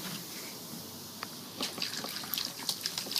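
Vinegar poured into a baking soda volcano experiment fizzes and crackles close by. After a quieter start it rises into a busy, spattering hiss.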